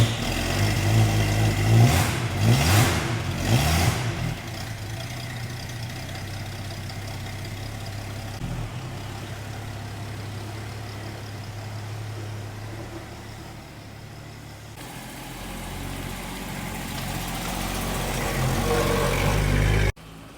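1965 Ford Mustang with a 200ci six and three-speed automatic on a road test, its engine revving hard at first, then settling into a steady low cruising drone with road and wind noise, swelling again toward the end.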